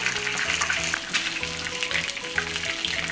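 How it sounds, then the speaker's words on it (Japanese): Karaage chicken pieces deep-fry in hot oil, a dense, steady close sizzle and crackle with occasional pops, running continuously with no voices. "また揚げていきます。"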